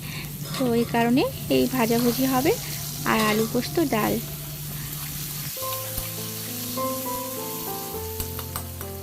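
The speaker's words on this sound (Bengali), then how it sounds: "নুন হলুদ মাখালাম তো করলাও ভেজে নেব" Bitter gourd slices rubbed with salt and turmeric sizzle steadily in hot oil, the frying hiss running under a speaking voice for several seconds before music takes over.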